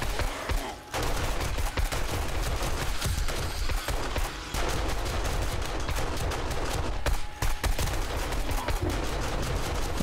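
Automatic turret trap firing rapid bursts at zombies during horde night in the survival game 7 Days to Die, a dense, nearly continuous rattle of gunfire close and loud throughout, with brief pauses.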